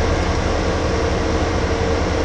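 A train rolls past in the Farming Simulator 2015 video game, a steady loud rumble of rail cars with low clattering, heard alone without talk.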